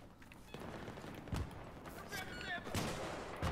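RPK machine gun fire in Battlefield 3, heard as a few loud, punchy gunfire bursts over a constant busy battlefield din, with a voice talking in between.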